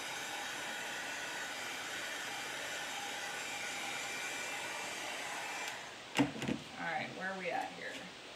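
A handheld hair dryer blows in a steady, loud broadband whoosh while drying a painted craft project, running alone for most of the stretch before it cuts off and people start talking near the end.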